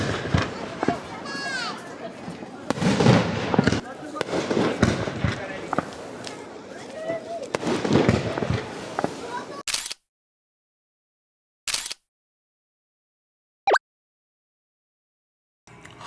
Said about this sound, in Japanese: 花火が上がり始めました。